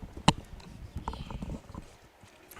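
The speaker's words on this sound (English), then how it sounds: "Horses making their way to the racetrack for our next race coming up." Horses walk on their way to a harness racetrack in Delaware, with a sharp knock followed by an irregular series of hoof clip-clops nearby that fade toward the end.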